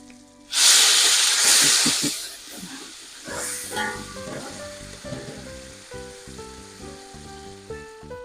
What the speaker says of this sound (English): I wanted you guys to hear that sizzle as the curry hits the oil